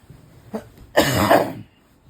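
A single loud, raspy cough lasts about half a second, preceded by a faint throat sound, then quiet.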